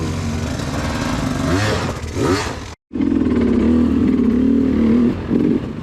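A Sherco enduro dirt bike engine revs hard and close, rising and falling, cuts out for an instant, then roars back at steady high revs.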